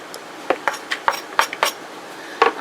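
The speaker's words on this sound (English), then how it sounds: "I'm just going to cut up my onion in as small of a chunks as I can manage." An onion being cut into small chunks on a board while making canned-potato salad, giving a string of sharp, close knife taps in an irregular rhythm with no talking.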